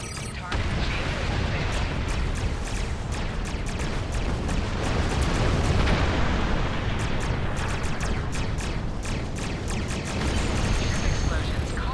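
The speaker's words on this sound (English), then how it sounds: "Put some distance between yourself and exploding ships." Continuous heavy rumbling with repeated blasts and booms of ships exploding in Star Trek Online, like a barrage of explosions, with a voice talking over the din.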